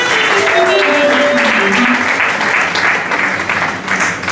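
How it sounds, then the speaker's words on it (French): A congregation at a church wedding breaks into loud, sustained applause and cheering, with a voice calling out over it before the clapping slowly thins. "Est-ce qu'on peut acclamer l'Éternel?"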